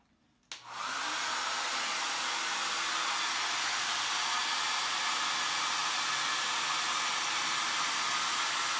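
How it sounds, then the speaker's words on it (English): A blow dryer switches on at high heat to dry a beard, giving a loud, steady whooshing roar of hot air that starts abruptly and holds constant, close up, with no talking. "Then you're going to hit it with your blow dryer. I personally do a high heat"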